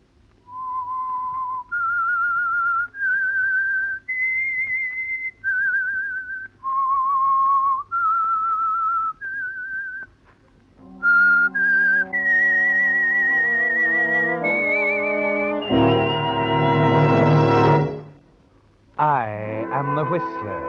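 A clear whistled melody of held notes, the theme of the radio mystery program The Whistler, then joined by an orchestral swell with a full, rising ending.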